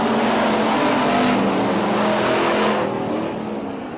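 Hobby stock race cars roar around a dirt oval track at a night race event. The engine noise is loud and close as the cars sweep past, then slowly fades toward the end.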